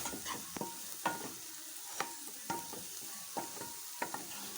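Turmeric, coriander and chili powder frying in oil for a mushroom masala, a low sizzle broken by about nine sharp scrapes of a spatula against the pan at an uneven rhythm, close and alone.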